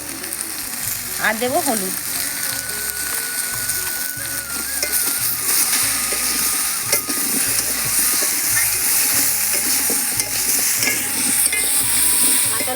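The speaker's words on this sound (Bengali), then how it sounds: "একসঙ্গে ভেজে নিচ্ছি আর কি" Spices fry with salt and turmeric in a pan, giving a loud, continuous sizzle with scraping stirs throughout. Someone speaks briefly over the frying.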